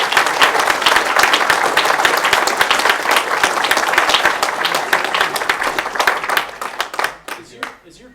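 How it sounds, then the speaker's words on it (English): An audience at a student game showcase claps and applauds steadily for several seconds, a dense wash of hand claps that thins out and fades near the end. "Maybe we can do a little round of applause."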